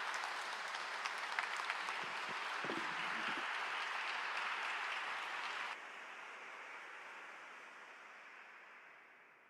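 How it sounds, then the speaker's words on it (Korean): A church congregation breaks into sustained applause to welcome the pastor, a dense, steady clatter of many hands that carries on for several seconds before thinning and fading. "목사님 나오실 때 뜨거운 박수로 환영하겠습니다."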